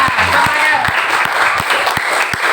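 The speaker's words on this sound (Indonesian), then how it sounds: "Aplaus dulu" Applause from an audience at a school student council candidate debate, a short burst of clapping mixed with cheering and voices, loud and close for a couple of seconds.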